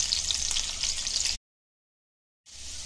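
Potatoes frying in a pan for a Konkani fish thali: a bright steady sizzle, cut off by a second of silence, then resuming.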